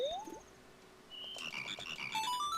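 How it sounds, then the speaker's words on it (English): Frogs croaking in Majora's Mask, a game sound of synthetic chirping croaks with rising and falling warbles over a faint electronic tone, fairly soft and without speech. "let the frogs croak and time turn back to normal"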